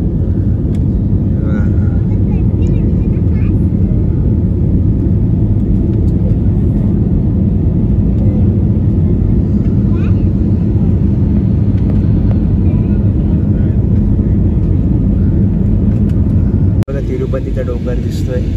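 A passenger jet climbs out of Tirupati bound for Mumbai, heard from inside the cabin as a loud, steady low engine rumble that fills the clip, with a brief drop near the end.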